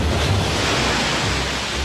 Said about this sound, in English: Oh, it's just the waves.